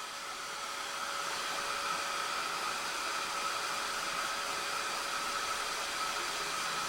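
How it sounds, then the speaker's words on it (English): A small handheld heat tool blows a steady, loud whoosh of hot air over a mixed media art card, continuous and unbroken throughout with no talking. "I love my little heat tool."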